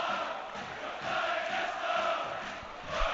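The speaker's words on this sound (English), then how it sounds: "That's the Hearts fans you can hear chanting away." Hearts football fans chanting in a stadium during a St Mirren versus Hearts match, a steady distant crowd roar with a rhythmic, swelling chant.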